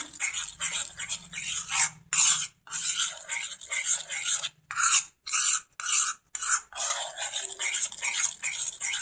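Hair dye is mixed with a leaf paste in a bowl, giving repeated scraping, rasping stir strokes in irregular bursts separated by short pauses, close and clear with no talking.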